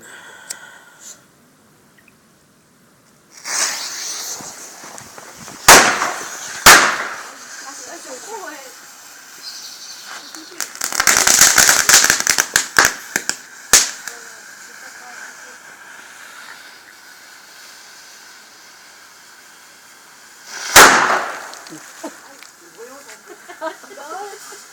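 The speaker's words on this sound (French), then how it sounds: "tout ce qui est pétard au sol" Ground firecrackers set off on the ground at a New Year 2016 fireworks show, bursting in loud sharp bangs and crackling volleys separated by pauses, with people talking between the blasts.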